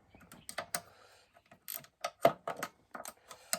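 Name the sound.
ratcheting spanner turning on an old water pump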